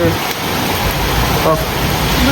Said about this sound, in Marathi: हे बघा खतरनाक पाऊस चालू आहे